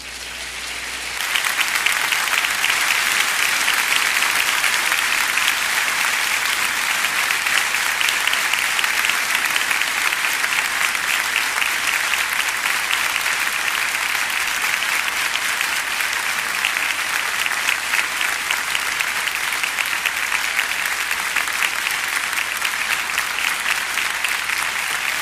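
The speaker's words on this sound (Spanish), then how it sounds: "¿Pudiéramos darle un prolongado aplauso al Señor?" A church congregation gives a long, steady round of applause to God. The clapping is dense and even, starts suddenly and keeps a uniform loudness for more than twenty seconds with almost no voices.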